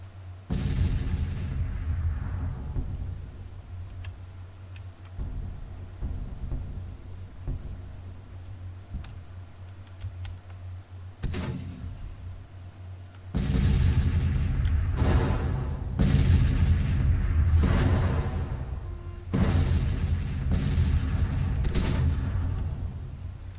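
Rifled artillery bombardment in a Civil War strategy game: a steady low rumble with sharp cracks and booms of cannon fire, growing heavier and more frequent in the second half, loud and continuous with no talk.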